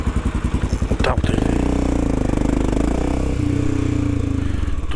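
A motorcycle engine idles close by with a steady low throbbing rumble, briefly revving near the start before settling into an even putter.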